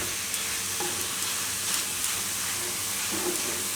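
Mint leaves tossed and stirred into pasta in a pan for a Gujarati pudina pasta, giving a soft steady sizzle with faint scraping stirs, fairly quiet and close, with no one talking.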